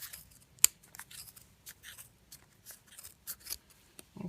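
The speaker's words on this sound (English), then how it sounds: "Then you take your scissors and you cut." Scissors snip through pom pom yarn for an Angry Birds craft, giving a series of short, crisp cuts with one sharp louder snip near the start and quieter rustling snips spread across the rest, close up with no talking.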